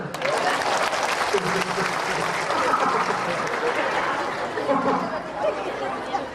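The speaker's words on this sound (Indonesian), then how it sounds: "Tepuk tangan dulu." A crowd at a Golkar party halal bihalal gathering in Kukar, East Kalimantan, breaks into sustained applause, with dense clapping throughout and chatter and voices mixed underneath.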